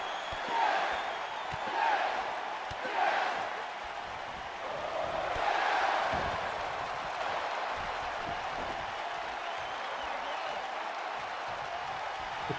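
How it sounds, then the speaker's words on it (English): An arena crowd in the WWE 2K wrestling game roars and applauds steadily, a dense wash of cheering that swells in a few rhythmic waves, with commentary over it. "The crowd are feeling it now."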